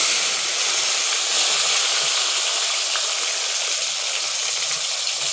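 Tomatoes and green chillies fry in a pan, giving a steady, loud sizzle with a broad hiss that runs unbroken throughout, with no voices.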